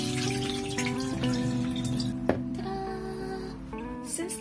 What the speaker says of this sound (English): I'm gonna pour out the water.